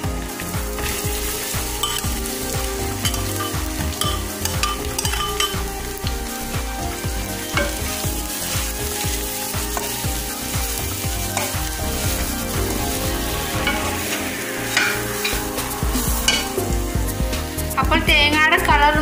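Grated coconut stirred and fried in a pan for Kerala-style coconut chutney powder, giving a steady close sizzle with scraping, clinking stirring strokes throughout, alone without talk.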